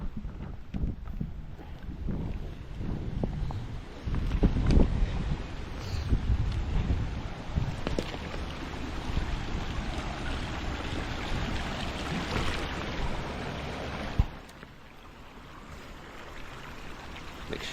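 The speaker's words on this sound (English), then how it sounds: "here's a little waterfall we get to cross" Small waterfall being crossed on a muddy trail during a 100-mile race at Twin Mountains, a continuous rushing of water mixed with heavy wind buffeting, close and fairly loud, easing off toward the end.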